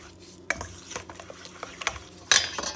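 Butter, oil and sugar being mixed in a bowl for croissant dough, with sharp scraping strokes and knocks against the bowl coming in irregular bursts, close and fairly loud.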